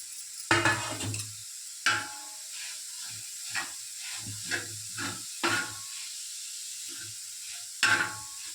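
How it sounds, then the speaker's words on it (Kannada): Grated bitter gourd dry-roasting on a roti pan over a medium flame, with repeated soft stirring scrapes and brief sizzling bursts between quiet gaps, fairly close and moderately loud. "ಹಾಗಲಕಾಯಿನ ತುರ್ಕೊಂಡಿದ್ವಲ್ಲ ಅದನ್ನ ರೊಟ್ಟಿ ಹಂಚಿಗೆ ಹಾಕಿ ಮೀಡಿಯಮ್ ಫ್ಲೇಮಲ್ಲಿ ಇದನ್ನ ರೋಸ್ಟ್ ಮಾಡಬೇಕು"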